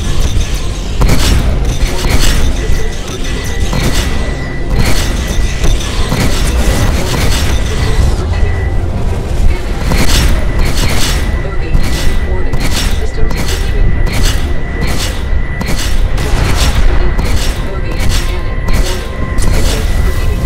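Six neutron cannons fire from a Super Hornet ship in the video game Star Citizen, giving loud, dense, continuous booming that turns into rapid, evenly repeated shots in the second half.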